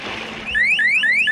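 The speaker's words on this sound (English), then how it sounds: "There's this bracelet by Safety Turtle, and it will sound an alarm the second your kid hits the water." A Safety Turtle pool safety bracelet alarm sounds loudly and alone, a rapid series of repeated rising electronic chirps that start abruptly and keep cycling.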